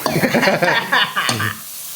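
Holy basil leaves hit a hot pan of Thai stir-fry and sizzle loudly while being tossed, with scraping stirs and a voice talking over the frying.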